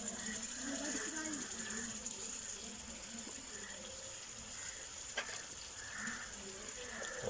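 Irani chicken karahi frying after fresh coriander goes in, a continuous close sizzle and bubbling hiss with faint clinks of stirring, while a person speaks over it.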